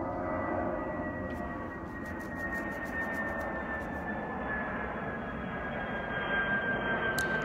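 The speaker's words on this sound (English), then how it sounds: "a refueling plane." A steady, distant jet roar from a refueling plane drones overhead for the whole stretch, broad and even with a faint high whine.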